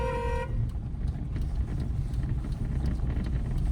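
A brief car horn honk sounds at the very start of a turn while driving in fog, then fades into the steady rumble of the car's engine and road noise.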